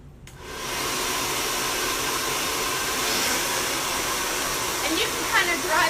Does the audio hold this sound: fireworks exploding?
no